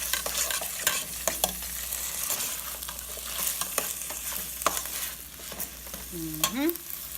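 A spoon stirs coconut curry tofu in a hot pan, scraping and turning through the soft sizzle of frying in close, irregular strokes, with a brief metallic squeak near the end and no talking.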